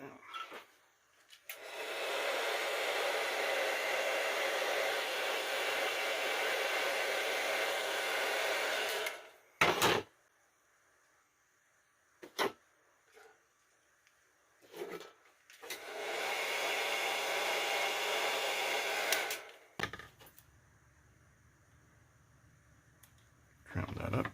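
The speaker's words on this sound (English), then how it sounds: "Now I'm going to take the heat gun and we are going to shrink wrap that down." A heat gun blows a steady, loud airy roar while shrinking heat-shrink wrap on a Hasbro A-Wing toy's landing gear, running for several seconds, cutting off, then restarting with brief handling clicks and taps in between.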